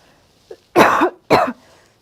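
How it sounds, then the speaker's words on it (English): A woman gives two short, sharp coughs close to the microphone, preceded by a tiny throat sound, in an otherwise quiet room. "hashtag not a COVID cough"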